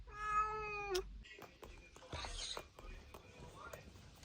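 A cat lets out one clear, drawn-out meow up close, followed by soft rustling and quiet handling noises.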